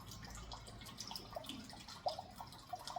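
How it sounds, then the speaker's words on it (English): Raspberry red wine vinegar poured slowly from a bottle into a measuring cup in a home kitchen, faint soft trickling with a few light drips and splashes, quiet and close. "forgot how slow pouring out this vinegar can be sometimes"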